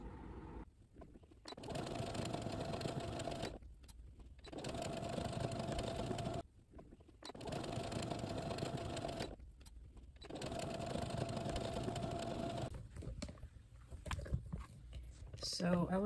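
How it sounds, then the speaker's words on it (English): A sewing machine stitches a pocket into an old comforter, running in several steady buzzing passes with short pauses between them, close but fairly quiet, with a voice talking in parts. "I was able to successfully sew one straight line here, and I created a pocket here"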